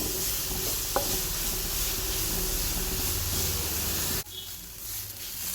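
Grated carrot sautéing in ghee produces a dense, steady sizzle and hiss close up with a faint stir knock early on, ending in a sudden drop to a quieter background.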